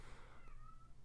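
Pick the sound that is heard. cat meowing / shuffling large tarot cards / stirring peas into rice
cat meowing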